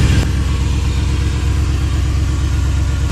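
A car engine starts with a brief burst, then idles roughly and unevenly in a loud, steady, low rumble close by, with no talking.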